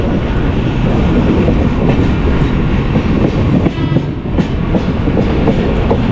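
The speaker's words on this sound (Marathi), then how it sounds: "आपल्या ट्रेनच्या बाजूने चाललेली आहे मुंबईची लाईफलाईन." A Mumbai local commuter train passes alongside a moving train, rumbling loudly and continuously nearby, with rhythmic clattering of wheels on rail joints and a steady metallic roar.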